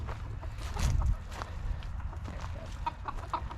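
Several chickens cluck softly outdoors among rustling movement, with scattered short calls over a low rumbling background.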